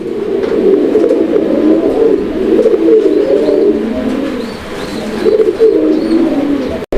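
Pigeons cooing steadily and close by, a continuous overlapping murmur of low throaty coos with faint chirps in the background.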